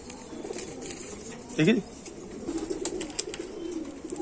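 Rampuri teddy and crossbred female pigeons cooing softly in a loft, low repeated coos under a short spoken remark from a man.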